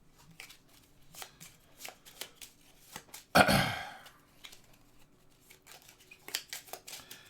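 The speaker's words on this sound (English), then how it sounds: "We shuffle." A deck of cards for the Pandemic board game being riffle-shuffled, one quick, loud burst of fluttering card slaps in an otherwise quiet room with small handling clicks around it.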